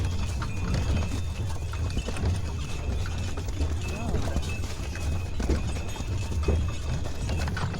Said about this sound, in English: so we've got 9 of the percherons like this